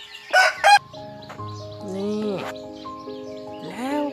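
Fighting cock roosters kept in a hillside village crow several times in long, rising and falling calls, with clucking around them and a short burst of nearby voices at the start.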